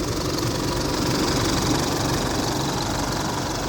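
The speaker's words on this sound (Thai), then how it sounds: "เนี่ยนี่เสียงคือเสียงสตาร์ทเครื่องแล้วนะท่าน" An Isuzu Adventure seven-seat family vehicle idles right after starting, a steady, fairly loud engine drone with a faint knocking texture running evenly throughout, no voices.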